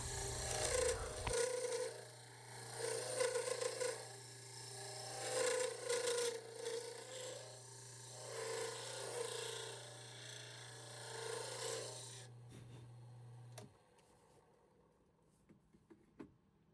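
Rhythmic rasping strokes of sandpaper on a wooden pen blank for a bolt action 30 caliber pen, steady back-and-forth friction over a constant low hum, then stopping abruptly into near silence.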